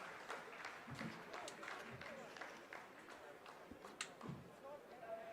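Scientists in the Chandrayaan-3 mission control room applaud after the lander's descent phase, a sustained patter of clapping mixed with room noise and scattered voices, moderately distant and steady throughout.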